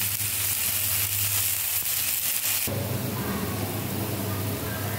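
Water poured into a pan of frying food sets off a loud, steady hiss of sizzling that shifts in texture partway through and carries on without pause.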